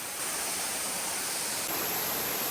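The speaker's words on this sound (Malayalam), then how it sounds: "ഈ വെള്ളച്ചാട്ടം ശരിക്കും അതിമനോഹരമായതും സേഫായതുമായ ഒരു വെള്ളച്ചാട്ടമാണ്" The Aruvikkachal waterfall pours over rocks in a steady, dense rush of water that holds an even level throughout.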